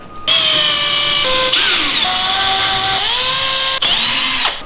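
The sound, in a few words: power drill marking drywall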